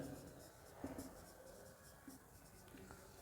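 Handwriting during a class 10 geometry lesson on similarity, heard as faint scattered scratching strokes of a pen on paper, quiet and intermittent against a low background.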